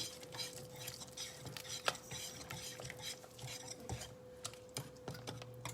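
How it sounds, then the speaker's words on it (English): Spoon stirring a trash can nachos mixture with cheese in a pot or dish, a steady close scraping and clinking of utensil against the container, with occasional sharper knocks and no talk. "Alright, get this stirred up a little bit more."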